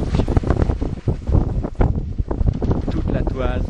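Wind buffets the microphone aboard a sailboat under full sail on the open Pacific, roughly ten knots of breeze, a loud gusty rush with boat and water noise beneath someone talking throughout.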